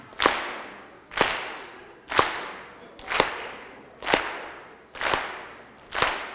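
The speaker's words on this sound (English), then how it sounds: "I just want some clapping" Seven sharp, evenly spaced claps about a second apart ring out alone, each with a quick decaying tail, as a school talent-show audience claps on cue.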